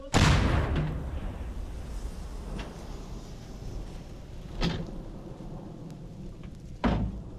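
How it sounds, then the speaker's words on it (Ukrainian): Several distant heavy booms from artillery cannon fire in a war zone in Ukraine, spaced seconds apart, each a sharp thud over a steady outdoor background hiss. "Гармата!"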